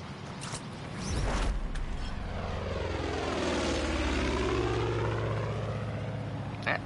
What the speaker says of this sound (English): That sounds like a plane.